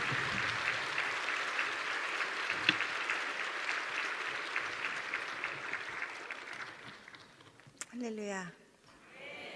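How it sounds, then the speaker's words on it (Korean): A church congregation gives sustained applause to welcome a pastor before testimony and sermon, steady moderate clapping for several seconds that fades, followed by a voice speaking. "우리 나오실 때 심찬 박수 하겠습니다"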